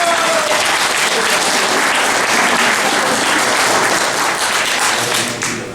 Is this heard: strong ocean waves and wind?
no